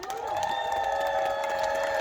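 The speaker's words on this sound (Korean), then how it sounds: "다 함께 힘찬 함성과 박수 부탁드립니다" Supporters cheer and clap at a Democratic Party campaign launch rally for Daejeon local election candidates, a dense crowd roar under steady sustained tones.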